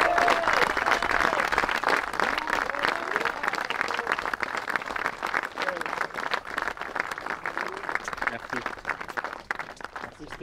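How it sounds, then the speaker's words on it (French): A crowd claps steadily at an outdoor fishing competition's prize ceremony, dense applause running throughout with voices calling and talking over it. "Je vous demande un tonnerre d'applaudissements"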